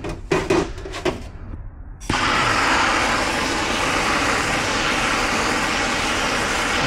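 A gas torch heats the bearing race and tool on a KTM crankshaft, lighting with a sharp pop after a few metallic handling clicks and then roaring in a loud, steady hiss close by.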